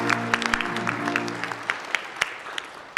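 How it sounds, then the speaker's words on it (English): A spelling bee audience at the 2023 King/Snohomish County regional contest applauds after round 8: a steady, moderate patter of scattered hand claps over a low, constant hum, with a few sharper claps standing out. "let's clap for round 8"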